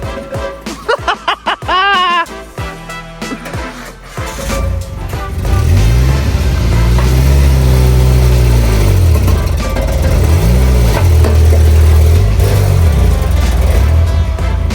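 A lowered Nissan D21 Hardbody pickup with a new exhaust starts with short voices and clunks, then the engine settles into a loud, deep exhaust drone that swells and falls through several long revs.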